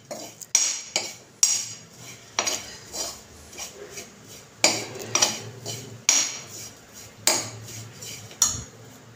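A spoon clinks and scrapes rhythmically against a bowl as spiced ingredients for a peanut and bread snack are mixed, with repeated sharp metallic taps at a steady pace, close and moderately quiet.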